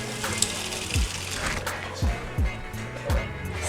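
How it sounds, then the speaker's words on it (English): Cooked macaroni water pours from a pot into a kitchen sink, a continuous watery gush with several clunks and knocks from the pot against the basin, while people talk nearby. "we're just gonna drain this mac"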